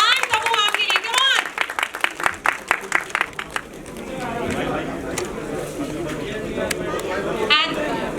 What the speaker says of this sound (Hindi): प्लीज जोरदार तालियां हो जाए